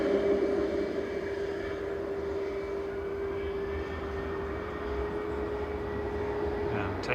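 Ryanair Boeing 737-800 jet taking off from runway 05 left at Manchester Airport, a sustained engine roar with a steady whine, heard from a distance at an even level throughout.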